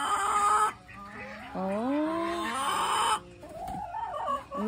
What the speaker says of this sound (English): Say good morning to the chickens and the birds. Having their breakfast.